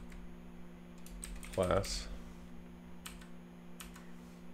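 Keys tapped on a computer keyboard while writing jQuery code, a few light, scattered clicks with a brief spoken word in the middle, all fairly quiet over a steady hum.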